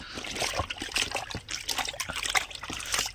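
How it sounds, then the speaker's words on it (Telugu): A shirt is dipped and soaked in plain water by hand, giving close, continuous trickling and soft splashes with uneven pulses of dribbling water and no talk. "ఇప్పుడు నేను ప్లేన్ వాటర్లో పోసి నానబెట్టాలి ఇట్లా ముంచాలి"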